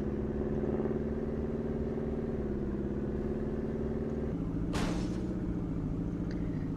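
Speed boat in a Roblox game, its steady mid-pitched engine drone running continuously and fairly quietly, with a brief splash-like burst near the end and no talk.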